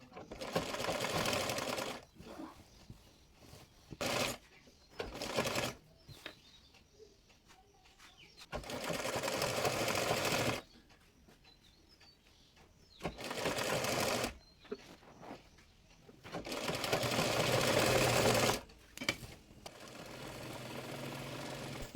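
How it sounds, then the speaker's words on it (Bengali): A sewing machine stitches a decorative design on a palazzo trouser leg cuff in several whirring bursts of a few seconds each, separated by quiet gaps. "একইভাবে অপর পায়ের মুহুরিটিও ডিজাইন সেলাই করে নেব।"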